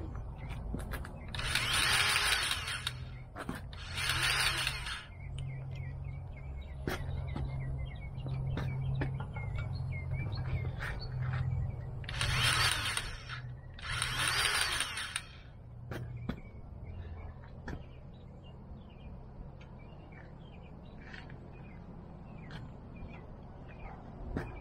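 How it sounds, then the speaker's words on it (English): A grease gun pumps grease into a fitting on a Kubota L3301 tractor outdoors, quiet mechanical clicks and squeaks with a low steady hum beneath, broken by bursts of hiss, and birds faintly audible. "let me grease it so it'll push anything out if there's any sand in there"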